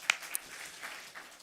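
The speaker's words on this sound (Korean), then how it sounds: "박수 한번 쳐줘." Brief applause from a church congregation, a couple of sharp claps at the start followed by a soft, scattered patter of hands that fades within a second or so.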